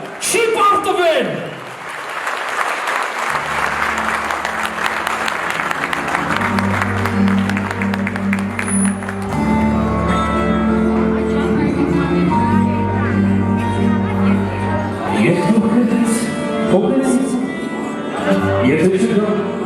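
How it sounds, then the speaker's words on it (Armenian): Wedding crowd applauding Armenian army soldiers: steady clapping from many hands under loud amplified music and a speaking voice, sustained throughout. "հաղթական ծափարություններ հնչեցնենք հայոց բանակի բոլոր զինվորներին"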